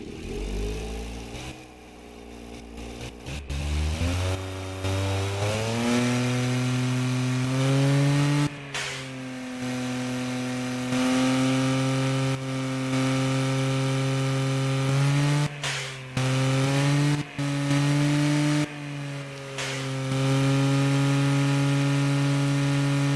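A powerful car engine idles and revs in the driving game Automation, a build meant to rival the Abarth 124, its steady harmonic drone climbing in pitch and holding loud and continuous, alone with no talk.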